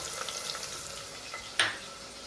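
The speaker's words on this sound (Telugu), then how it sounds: "వేసుకొని ఫ్రై చేసుకోవాలి స్పైసెస్ ఉన్నాయి కదండి వేసుకున్నాము చూడండి ఫ్రై అవ్వాలి కొంచెం" Spices frying in a pan for a masala paneer curry make a soft, steady sizzle close by, with a faint clink of a stirring utensil against the pan near the end.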